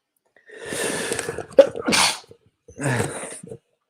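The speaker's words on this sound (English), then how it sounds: "Did not mean to sneeze, but I couldn't hold it in anymore." A single loud sneeze preceded by sharp inhaling breaths, then a breathy exhale afterward, close to the microphone.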